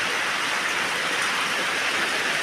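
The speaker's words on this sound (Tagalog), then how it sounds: "Sana'y pagayang-gayaan na lang ang ulan at wag na pong lalakas." Rain falls steadily outdoors, a dense, continuous hiss that stays loud and unchanging throughout with no voices.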